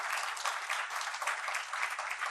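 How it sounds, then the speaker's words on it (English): Audience at a business forum applauding, a continuous dense wash of many hands clapping at an even level with no voices over it. "I think we should clap for him for his contribution"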